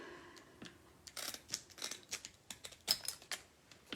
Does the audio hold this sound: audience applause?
no